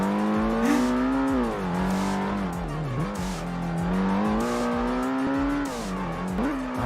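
Several 500-horsepower Ford supercars race around the Mesa Verde track in the game Ford Racing 1, a loud close engine drone whose pitch rises and dips with shifts, joined by tire squeal.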